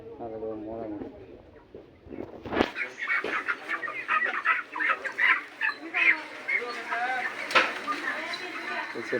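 Chickens cluck and squawk at a poultry stall in a busy bazaar, with repeated bursts of calls close by while people talk and call out around them.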